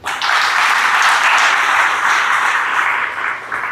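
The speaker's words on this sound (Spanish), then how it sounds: "Eso merece un aplauso." A church congregation breaks into sustained applause, dense steady clapping filling the space close and loud, holding for several seconds before thinning slightly at the end.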